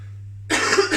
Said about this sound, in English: that's my COVID cough